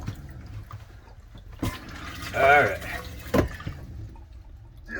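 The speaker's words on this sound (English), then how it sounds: "We're gonna turn it on, we're gonna put some water in it" Water runs into a Dometic 320 RV toilet in a short, gurgling rush around the middle, bracketed by a couple of sharp clunks, while a voice speaks briefly at the start.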